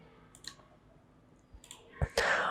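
A computer mouse clicks during PowerPoint slide work: a few faint, sharp clicks spaced apart, followed by a louder cluster of clicks near the end against a quiet background.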